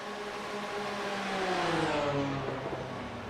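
Two BMW GT3 race cars in a racing video game sweep across the finish line, engines whining and rising in pitch as they pass, fairly quiet and alone without talk.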